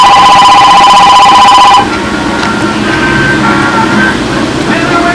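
A telephone rings loudly with an electronic trilling tone for under two seconds, then stops abruptly, leaving steady outdoor rumble and noise.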